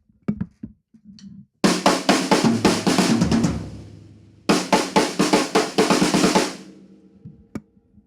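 Rapid drum fill opening on the snare and rolling across the kit in two loud, dense bursts of hits, with a few scattered single strokes before and after.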